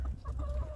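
Chickens cluck briefly at close range during a snowy February 2021 winter storm, a short burst of low fowl clucking.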